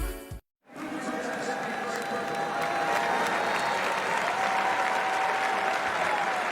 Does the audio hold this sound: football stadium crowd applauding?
yes